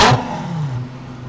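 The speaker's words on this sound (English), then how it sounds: "I'm gonna hop in with Kapil in the Lamborghini Huracan Spider and we'll get some revs." A Lamborghini Huracan Spider engine gives one sharp, loud rev blip right at the start, then its roar drops away into a fading low rumble.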